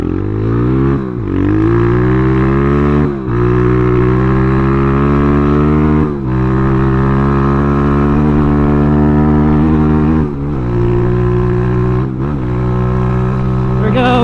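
Kayo dirt bike engine revving hard on a full-throttle top speed run, a loud, steady high-pitched drone that climbs in pitch, broken by several brief dips at gear shifts.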